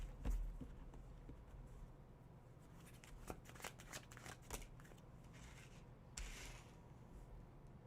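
Tarot cards being shuffled by hand during a live reading, a run of soft papery riffles and rustles with a few sharper card snaps, fairly close and quiet, with no talk.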